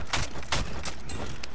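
Gunfire in Call of Duty: Modern Warfare, with a few sharp broadband shots standing out over a steady, dense background of game noise.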